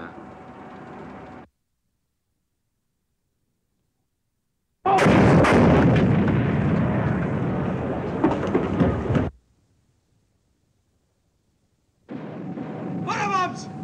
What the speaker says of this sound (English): What bombs!